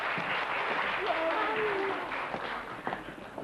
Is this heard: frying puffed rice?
no